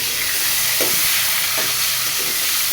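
Potatoes fry in hot oil with a loud, continuous close-up sizzle and a few soft stirring scrapes, with no talking.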